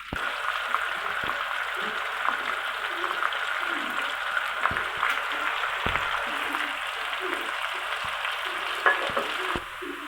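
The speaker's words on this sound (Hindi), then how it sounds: "प्याज हमारा फ्राई हो चुका है।" Onions sizzle steadily in a hot pan while browning for a chicken dish, a dense crackling hiss with occasional sharper pops and a few faint clinks.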